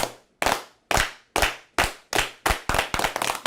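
A group of people clapping in unison, about nine sharp, loud synchronized claps at a steady beat that speeds up slightly toward the end, with no other sound.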